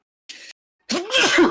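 A single short sneeze, then a brief pause before a person starts talking.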